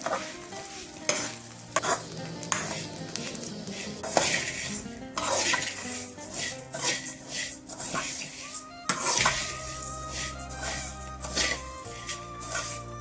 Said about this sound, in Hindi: फाइव मिनट्स में पोहा को फ्राई करेंगे।